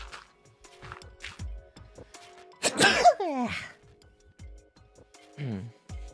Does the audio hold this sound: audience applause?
no